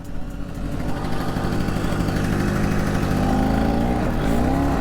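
A 1966 Piaggio Vespa 150 Sport scooter's two-stroke engine pulls hard during a wheelie, its buzzing drone steady and close, rising in pitch toward the end.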